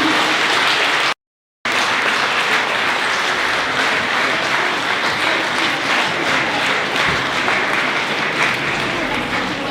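Audience applause at a school Advent Christmas show, dense continuous clapping from parents that runs for about ten seconds with one brief dropout near the start.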